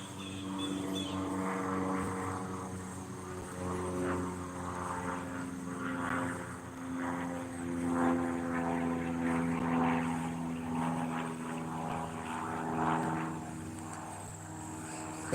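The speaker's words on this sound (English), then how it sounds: "There's a plane." A propeller plane drones steadily overhead, a loud continuous engine hum with a buzzing rotor tone that swells and fades slightly, with no talking.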